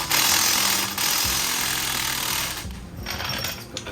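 An impact wrench blasting a hub assembly bolt loose on a VW MK6 GTI with a 3.6L VR6, a loud close rattling hammer burst that breaks off, then resumes more quietly near the end, no talk.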